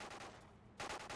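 Suppressed TLD rifle gunfire in the Quantum of Solace video game multiplayer, rapid muffled automatic shots in two quick bursts with a short gap between them.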